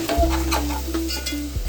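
Leafy greens stir-fried with chili powder and salt in a pan, a steady close sizzle with a spoon scraping and stirring through it.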